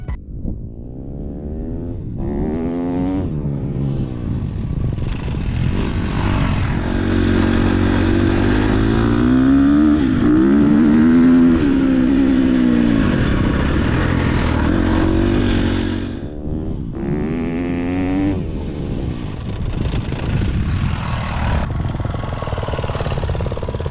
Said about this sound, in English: stay on the throttle longer, more aggressive braking